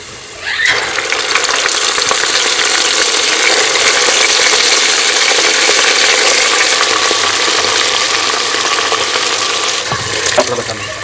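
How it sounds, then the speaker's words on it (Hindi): Cooked, mashed spinach sizzling in a hot tempering pan and being stirred: a loud, steady frying hiss from start to finish, with scraping and clinking of the spoon against the pan and a sharper clatter near the end. "अब जो पालक हमने घोट के रखी हुई है, पका के रखी हुई, उसको इसी में डाल देंगे"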